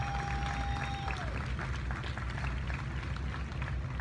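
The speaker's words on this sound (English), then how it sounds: "a huge round of applause for the couple" A crowd claps and cheers in dense, continuous applause; a brief whistle-like tone fades early on.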